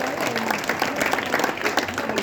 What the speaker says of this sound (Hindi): एक बार जोरदार ताली वाली बजाइए